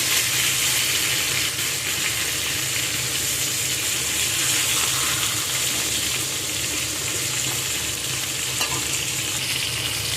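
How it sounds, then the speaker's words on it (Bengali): Fish pieces fry in hot oil in a pan with a continuous, close, loud sizzle and crackle, plus faint scraping as they are turned. "মাছের এক সাইড ভাজা হয়ে গেছে আমি একে একে মাছগুলোকে উল্টে দেবো"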